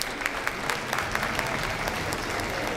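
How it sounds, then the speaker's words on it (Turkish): An audience at a Turkish hospital gala event for deep brain stimulation patients breaks into steady, even applause, a dense continuous patter of many hands clapping throughout. "Büyük bir alkış lütfen."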